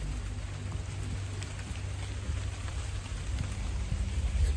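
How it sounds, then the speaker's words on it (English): Steady rain patters and hisses continuously, with a low rumbling undertone throughout; no voices. "It'd be just the rain anyway."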